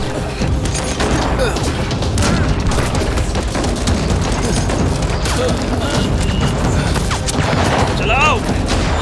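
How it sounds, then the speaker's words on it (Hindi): Loud, dense gunfire with heavy booms and rapid crackling shots running continuously, voices mixed in beneath the noise. "गोली चलाओ रिच"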